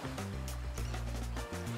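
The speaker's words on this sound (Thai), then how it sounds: "ท่อทั้งหมดอยู่ใต้น้ำและขยายเสียงของคลื่นที่ซัดเข้าหาท่อ" Waves surge into the submerged concrete and PVC pipes of the San Francisco Wave Organ near Crissy Field, giving hollow, humming low tones under continuous sloshing water.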